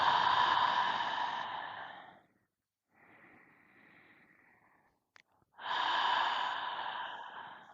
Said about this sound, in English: We'll take 3 breaths to close the circle.